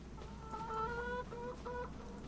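Chickens in the Farming Simulator 25 video game, an older flock on a homestead farm, cluck in a few short tonal calls over a low steady background hum, with no talking.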